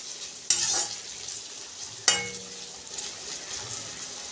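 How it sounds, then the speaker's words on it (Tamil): Onions and tomatoes sautéing in oil in a pan for a home lunch-box recipe, a low sizzle punctuated by two loud clanks of a spoon or added ingredients, then softer stirring scrapes. "வெங்காயம் கொஞ்சம் வதங்கின பிறகு இந்த தக்காளியும் போட்டு வதக்கணும்"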